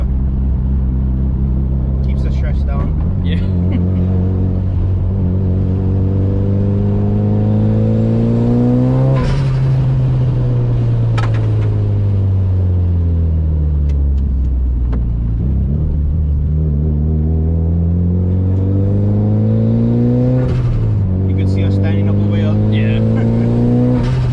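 A Mitsubishi EVO accelerates hard through several gears, its engine note climbing in repeated rising sweeps broken by brief dips at each shift, loud and close from inside the car, with people talking over it.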